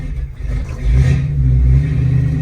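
A 1974 Ford Bronco Sport's engine runs steadily while the truck backs up in reverse gear, with a close, low rumble that swells slightly about halfway through. No one speaks.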